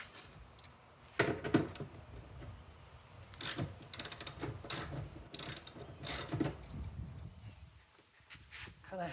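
A hand ratchet loosens the stow-and-go seat bolts inside a 2015 Chrysler Town and Country minivan, giving quick bursts of close, crisp clicking broken by short pauses and faint handling knocks.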